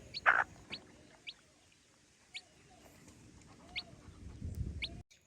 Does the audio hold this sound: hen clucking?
yes